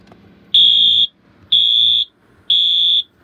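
Fire alarm under test sounds three loud, piercing electronic tones of about half a second each, evenly spaced and very close.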